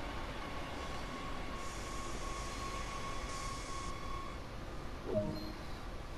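A Talent 2 electric train in Train Sim World slows under braking, with a steady low rolling rumble and a faint whine continuing throughout and a brief squeal near the end.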